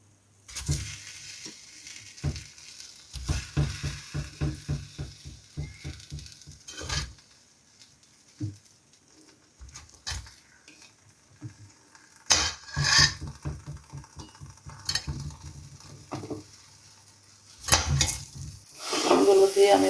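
Mango pieces are tipped into hot oil with bay leaves, a cinnamon stick and white cardamom, followed by a sizzle and rapid, rhythmic scraping and stirring of a spoon against the pan in repeated bursts, close and loud, with no speech.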